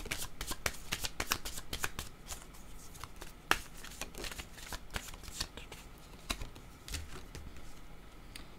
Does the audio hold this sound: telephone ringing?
no